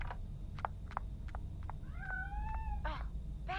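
A cat meows repeatedly in the horror video game Friday the 13th: The Game: a run of short mews, then a longer drawn-out whining meow and more cries, nearby and clear over a low background hum.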